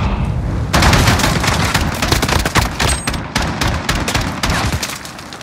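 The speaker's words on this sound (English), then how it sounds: "Taking fire!" Rapid bursts of gunfire in Call of Duty: Modern Warfare during a 2v2 match, with dense automatic fire and heavy booming shots coming close and loud for several seconds.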